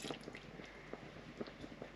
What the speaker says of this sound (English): now it's time to add some lemon juice